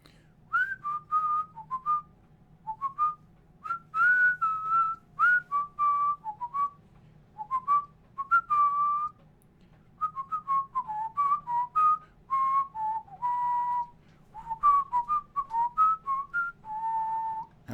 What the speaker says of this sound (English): Can you give us some whistling for the outro?